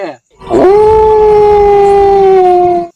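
A single long howl, loud and close, rises and holds a steady wavering pitch for about two seconds in a Gujarati comedy sketch about Kali Chaudash night; it could be a person imitating a dog.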